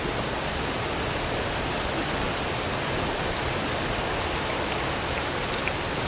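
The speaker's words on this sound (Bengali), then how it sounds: "রান্না করতে করতে অনেক ধরে বৃষ্টি এসে গেছে" Steady rain falls outdoors on a village cooking day, a dense even hiss of drops that holds constant throughout with no voices.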